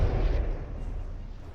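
A deep, booming cannon volley in the From the Depths naval combat game hits at the start and rumbles away over the next second.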